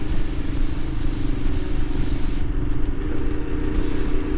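An adventure motorcycle engine pulls steadily in fourth gear on a rural Virginia road, a close, constant rumbling drone with wind noise and no talking.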